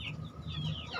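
Free-range chickens roaming on open ground cluck nearby in a brief run of short, rising calls, fairly quiet and with no talking over them.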